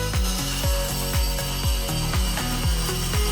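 An oscillating multi-tool cuts off a bolt on a 2020 Ford Transit, grinding through metal in rhythmic pulses, a harsh buzzing cut repeating about three times a second, loud and close.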